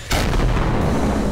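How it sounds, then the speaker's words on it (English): A grenade explodes in the video game Killing Floor, one sudden loud boom that hits hard and leaves a heavy rumbling roar filling the rest of the brief moment. "Grenades."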